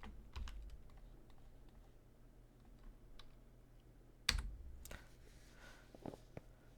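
Computer keyboard key presses while working in geometry software, scattered light clicks with one sharper, louder tap near the end, close and clear against quiet room tone.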